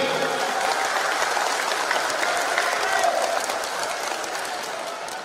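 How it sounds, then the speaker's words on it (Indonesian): A crowd at a Halal Bihalal and inauguration ceremony in Indramayu claps again, a dense, continuous roll of hand claps filling the hall, holding level before easing slightly near the end. "Tepuk tangan sekali lagi."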